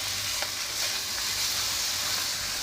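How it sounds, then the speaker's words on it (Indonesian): Tofu cubes fry in hot oil, a steady close sizzle with faint stirring scrapes running through the whole stretch, no voices. "Tahu goreng sampai harum, masukkan tahu"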